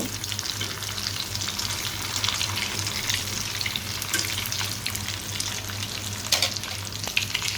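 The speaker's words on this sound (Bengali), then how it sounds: "আমি এটাকে একটু ভালো করে ভেজে নেব" Flattened noodle fritters deep-frying in hot oil give a steady, dense crackling sizzle that carries through the whole stretch, with occasional sharper pops and a low continuous hum beneath.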